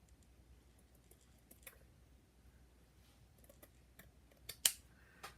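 Scissors snip through recycled shirt fabric in a handful of quiet, close, crisp cuts, the last few sharper and quicker, with no talk over them.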